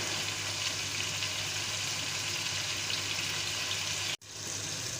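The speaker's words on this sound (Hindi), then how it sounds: "मसाले डाल के इसको तकरीबन 5 से 6 मिनट इसको भूनना है दबा के" Spice masala frying in a pan for lauki gosht curry, a steady dense sizzle that runs unbroken and close, cut by one brief silent gap near the end before the hiss resumes.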